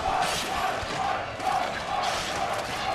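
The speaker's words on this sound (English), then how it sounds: "And they are cheering madly right now for KI." Spectators at a CEO 2017 Killer Instinct top-eight fighting-game match cheer and yell in a loud, continuous roar that surges in waves throughout.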